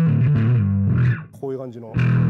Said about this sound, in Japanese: アースクエイカデバイスのファズっぽいっていうか、 アースクエイカデバイス